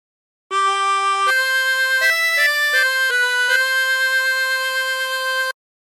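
A 24-hole tremolo harmonica plays a slow phrase of the hymn What a Friend We Have in Jesus, with sustained, reedy, shimmering notes stepping up and down cleanly against silence.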